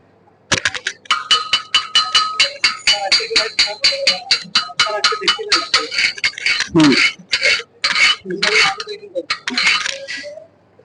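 A chipping hammer knocks slag off a flux-core MIG weld in rapid metallic clinks, a long run of sharp close strikes in quick rhythm with brief pauses, while someone talks between the hits.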